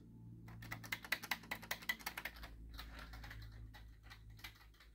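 Rapid keystrokes on a Commodore Drean C64C keyboard with faulty keys, a close, clattering burst of about a dozen clicks that thins into scattered taps over a steady electrical hum.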